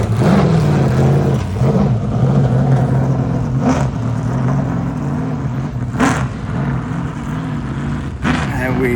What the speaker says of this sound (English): Nothing like the sweet roar of muscle cars in the morning, and these freaking Mustangs are so